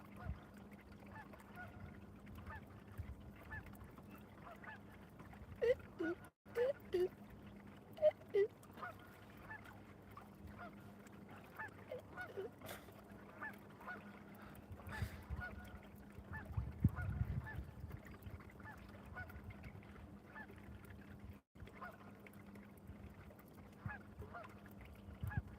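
A flock of Canada geese keeps up scattered honks across open water near a point, some calls closer and louder, over a quiet low hum with a couple of abrupt knocks.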